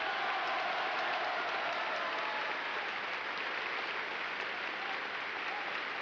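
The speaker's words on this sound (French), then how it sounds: "L'ovation qui salue Staline est particulièrement longue." A long ovation for Stalin, a crowd's dense, sustained applause heard as a steady wash of clapping, evenly loud from start to finish with no pauses.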